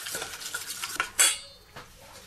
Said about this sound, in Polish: całość dokładnie mieszam na taką gęstą marynatę